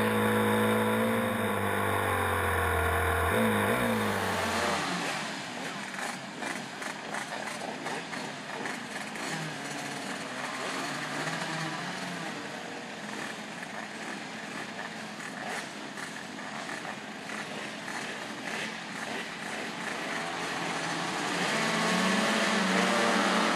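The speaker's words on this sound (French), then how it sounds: "c'est parti pour cette deuxième manche du trophée Tour Race, et notre pilote Eric Lombeau a directement" Race cars roar off the line for the second heat of the Trophée 2Race prototype event at Juvaincourt, a dense, continuous engine wash that swells in at about five seconds and holds loud through the rest of the clip.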